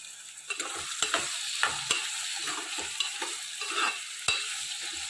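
Brinjal pieces and onions sizzle in a pan under frequent stirring strokes, with a steady frying hiss and sharp scrapes every second or so, and no speech.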